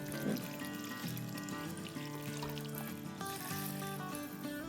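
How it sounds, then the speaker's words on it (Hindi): Water pours steadily into a pan of Punjabi chicken curry, a continuous liquid rush with a tonal background hum running throughout. "अब हम इतना पानी डालेंगे जिससे शोरबा अपनी मनपसंद हो जाए।"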